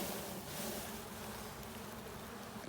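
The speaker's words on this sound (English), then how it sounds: "shake some bees in it." Honeybees shaken into a basket give off a dense, steady buzzing hum, close and continuous, with no voices.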